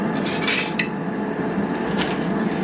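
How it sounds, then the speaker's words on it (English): Pizza crust pretzel bites tossed in a tablespoon of butter inside an air fryer basket, giving a steady rattling and scraping of food and metal with a few sharper clinks, close by and continuous. "So we're just going to toss them like this"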